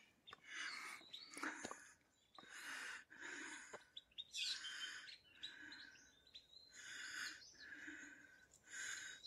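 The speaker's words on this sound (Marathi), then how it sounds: "जंगलात पक्षी अगदी मनमोहकपणे बागडतात" Several birds chirp and tweet in a forest along the Narmada river in repeated bursts against a quiet background, some calls close and bright, others softer and farther off.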